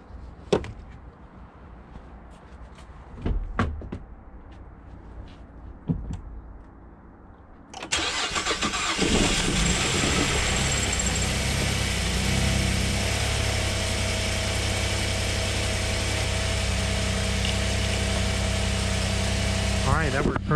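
A car with a bad battery cranks over on a jump box's boost and catches, then settles into a loud, steady idle that runs on to the end; a few clicks and faint sounds come first.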